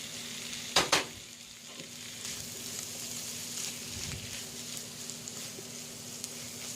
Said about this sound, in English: We're going to let that simmer for a little bit